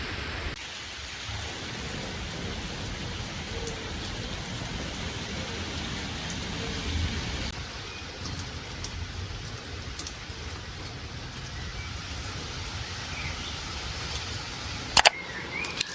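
Steady rain shower falling outdoors, a continuous broadband hiss of drops lasting throughout, slightly heavier in the opening seconds, with a brief sharp knock near the end and no voices.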